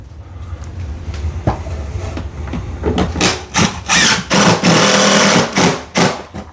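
Power driver running a Phillips head screw into a foam shower board corner during shower prep: a series of short, loud whirring bursts of increasing length, close by, with no talk.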